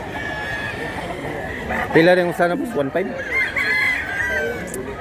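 Roosters crow and chickens cluck at a Cebu poultry market, with a loud crow rising in the middle and bird calls continuing over steady crowd noise while someone talks prices nearby.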